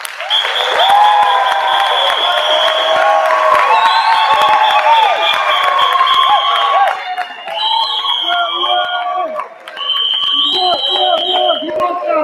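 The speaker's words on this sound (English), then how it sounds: "Ladies and gentlemen, put your hands together." A festival audience claps and cheers for a row of youth speakers, dense sustained applause with whoops and a steady high electronic tone running through, thinning slightly near the end.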